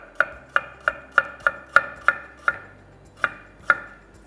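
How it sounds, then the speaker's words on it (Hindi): Knife chopping onion on a cutting board, about ten crisp sharp knocks in a fairly steady rhythm with a short pause before the last two, close and clear with no talking. "बीच में से स्लिट किया और यूं प्याज कट गया"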